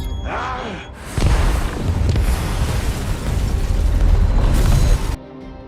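A whole building blown up in a Jackie Chan action film, a loud sustained blast roar with rumbling debris lasting several seconds before cutting off abruptly.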